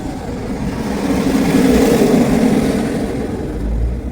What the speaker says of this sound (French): Hop, je passe l'espèce de tracteur faucheuse là.